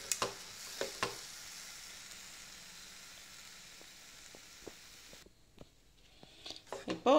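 Carrot juice is stirred into a laddoo mixture frying in a pan over a low flame. A soft, steady sizzle runs underneath, with scattered spoon scrapes and taps that grow into a louder clatter at the end.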